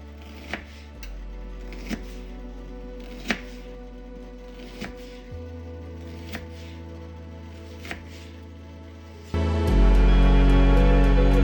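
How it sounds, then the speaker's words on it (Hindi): Onion being chopped with a knife on a board while making beef yakhni pulao, about eight separate crisp cuts at an irregular slow pace, close and alone, ending in a louder burst of background noise. "जिस वक्त हम प्याज काट रहे थे"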